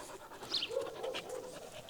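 German Shepherd named Pandora pants quietly during her first days of obedience training, a faint, steady run of quick breaths with no voice over it.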